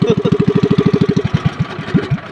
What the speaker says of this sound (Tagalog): hirap yung makina namin